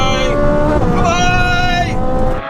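An old-school Mazda RX-7 and a Ferrari race side by side, their engines droning loud and sustained with rising whining tones as they rev through the gears, fading slightly at the end.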